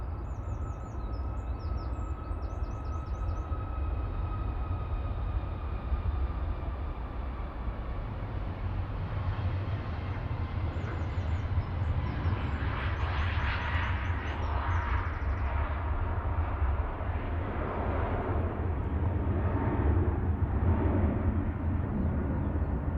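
A Ryanair Boeing 737 Max 8 on its takeoff roll at Manchester Airport makes a continuous, distant rumbling roar that builds gradually, with faint bird chirps heard briefly above it.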